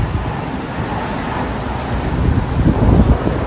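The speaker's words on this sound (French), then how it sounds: "beaucoup de vent et il pleut" Strong wind and rain during a storm on a hot day produce a steady, broad rushing roar with buffeting gusts against the microphone, swelling louder toward the end, with no voices.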